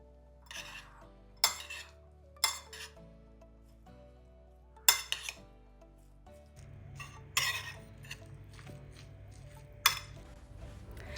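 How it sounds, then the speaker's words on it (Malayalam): Ingredients are mixed with olive oil in a bowl, with a spoon scraping and clinking against the bowl in several sharp, irregular knocks over soft background music. "നമുക്കിത് നന്നായിട്ട് മിക്സ് ചെയ്തെടുക്കാം"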